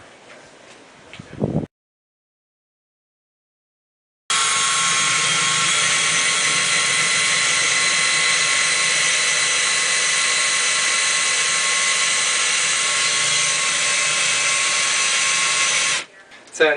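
A power drill drilling into a wall for a TV mount whirs loudly and steadily for about twelve seconds after a brief pause, running close by before cutting off.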